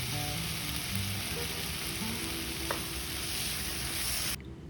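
Cut mushrooms, 200 grams, are stirred and sizzle in a hot pan, a steady close frying hiss with occasional scraping of the spoon, then abrupt quiet at the end.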